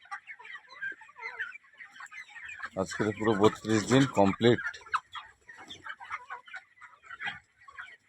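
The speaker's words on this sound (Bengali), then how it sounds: "আজের 32 দিন বয়স মুরগি" A flock of 32-day-old chickens clucking and chirping close by, with someone talking over them in the middle and softer clucks continuing around him.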